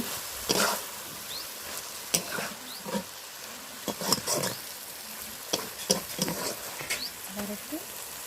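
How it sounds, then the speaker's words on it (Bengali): Greens mixed with potato and eggplant are stirred in a pan, giving repeated scraping and clattering strokes in an uneven rhythm over a soft, quiet sizzle, with no talk. "এবার শাকগুলোকে আলু এবং বেগুনের সাথে একদম ভালোভাবে মিক্স করে দিচ্ছে।"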